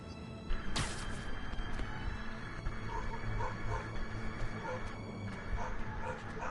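Dogs bark and yip around a room where someone is playing a Spider-Man video game, with the game audio running underneath. The barks come as a busy, cluttered burst that stays at a fairly steady level throughout.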